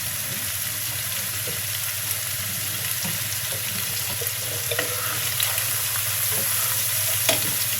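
Rohu fish curry simmers in a pan as dry-roasted ground spice is added, giving a steady moderate sizzle with faint stirring clicks and scrapes, close by and without talk.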